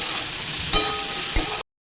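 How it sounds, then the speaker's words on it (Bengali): Carrot, capsicum, green chilli and ginger stir-fried in a pan for khichuri, a steady close sizzle with two brief louder scrapes of stirring, no voices. "সবটা কিছুক্ষণ নাড়াচাড়া করে নিচ্ছি।"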